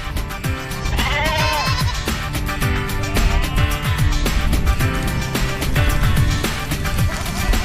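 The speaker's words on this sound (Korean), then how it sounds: "염소들이 우리에 들어오자 갑자기 염소들을 줄지어 묶습니다." Goats in Mongolia bleat repeatedly as they are driven into a pen, many overlapping wavering calls close by, with a dense chorus of livestock noise throughout.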